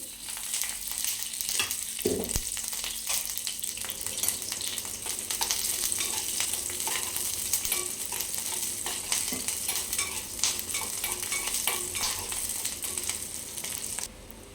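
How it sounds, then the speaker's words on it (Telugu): Green chillies fry in hot oil with a steady, close hiss and crackle that runs the whole time, with a brief scrape of stirring near the start. "పచ్చిమిర్చి కూడా ఇప్పుడు బాగా వేగిపోయినాయి"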